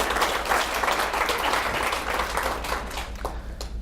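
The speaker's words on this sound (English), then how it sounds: "So let's give them a round of applause." A conference audience applauds, dense sustained clapping filling the room for several seconds before thinning out near the end.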